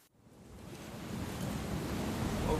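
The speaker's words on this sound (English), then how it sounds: "we've got very loud waves today" Loud ocean waves roll in along the Malecon at Puerto Vallarta, a broad rushing surf roar that swells steadily louder and stays close and continuous, with wind buffeting the microphone.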